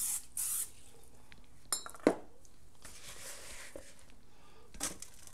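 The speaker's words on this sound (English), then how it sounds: "I'm going to spray mine with a little bit of vegetable oil to hopefully keep it from wanting to stay in this pan" Vegetable oil cooking spray hissing from a can into a pan, two short bursts near the start, followed by clinks of pan and utensils and a sharp knock in a quiet kitchen.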